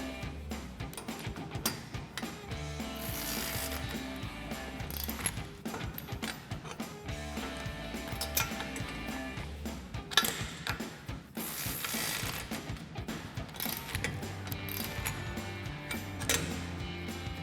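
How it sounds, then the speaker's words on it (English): A ratchet with an 18mm socket tightens pivot bolts while a contractor rack is installed on a 2005-2023 Toyota Tacoma pickup. Its clicking is steady and nearby, without talk, and plays over a louder continuous background. "we're going to grab an 18mm socket on our ratchet"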